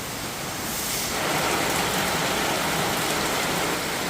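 Steady rain pours down in a dense, even hiss, swelling slightly partway through and continuing without pause.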